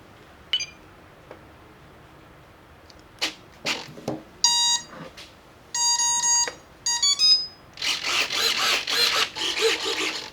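A model plane's electronic speed controller powering up on a workbench plays a string of clear, loud musical beeps in short bursts, followed by a burst of whirring, servo-like mechanical noise, with no speech.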